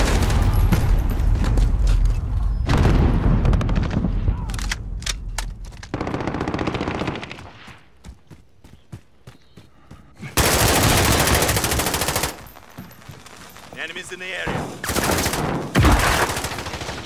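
Machine gun fire in Call of Duty: Modern Warfare, loud sustained automatic bursts with dense rattling volleys, brief lulls of scattered single shots, then renewed heavy firing close by.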